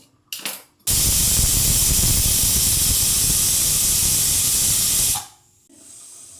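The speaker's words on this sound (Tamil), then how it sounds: "இப்போ விசில் வந்துட்டு நம்ம அடுப்பை அணைக்கலாம்." A pressure cooker cooking tomato biryani vents steam through its whistle in one loud, continuous hiss lasting about four seconds, starting abruptly and tapering off at the end.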